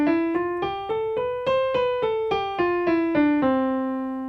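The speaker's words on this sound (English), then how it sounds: "that's the sound of a major scale." A major scale played note by note on a tonal instrument, about a dozen clear plucked or struck pitches rising then falling back down, evenly spaced and ringing, close and alone.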